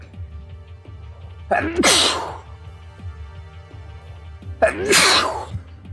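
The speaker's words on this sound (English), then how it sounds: "I'm gonna sneeze at this moment in time." Two loud, close sneezes about three seconds apart, each a sharp burst over a quiet background hum.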